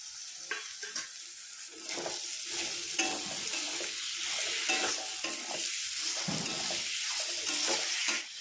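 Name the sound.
cooking tomatoes with garam masala in pan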